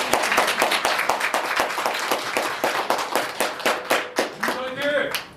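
An audience claps in rhythmic unison at a candidate's press conference announcing a run for the National Assembly in Bundang, 2024, with loud, even hand claps and some voices, then a brief shout near the end.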